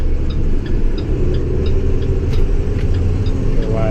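International Durastar truck with a Cummins 6.7 diesel driven at full throttle on the highway, a steady loud low engine drone and road rumble heard from inside the cab, continuous with no break.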